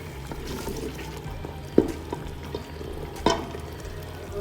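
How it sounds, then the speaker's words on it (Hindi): Mutton sautéing in a pan over a medium flame for matar gosht gives a low, steady sizzle, broken by a few sharp stirring scrapes and clicks, with no voices. "अब मैं इसे अच्छी तरह भून लूँगी, थोड़ी सी फ्लेम में मैं मीडियम कर दूँगी।"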